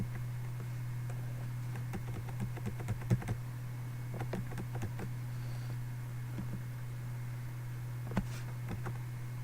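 Arrow keys and the space bar on a computer keyboard are tapped in quiet, irregular clusters of soft clicks over a steady low electrical hum, with no voices.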